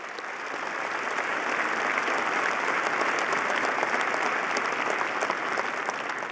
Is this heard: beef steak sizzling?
no